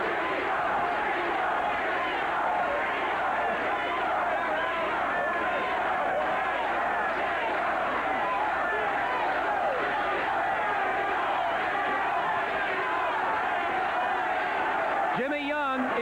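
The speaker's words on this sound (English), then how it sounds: "They're chanting Jimmy Young's name." Boxing crowd in Atlantic City chanting for heavyweight Jimmy Young at his fight with Greg Page, a loud sustained roar of many voices filling the arena, with a commentator talking over it.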